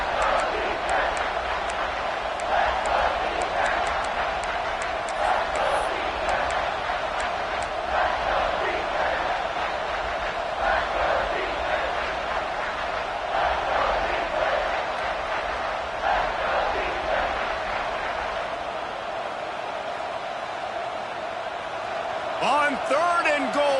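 A loud football stadium crowd on third and goal keeps up a steady roar from start to finish, with a play-by-play commentator talking over it.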